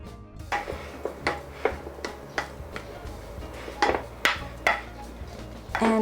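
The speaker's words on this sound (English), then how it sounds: "I start to mash the potatoes" Potatoes being mashed by hand in a pot with a simple utensil, giving a run of irregular, close clacks and scraping knocks against the pot, repeated roughly every half second.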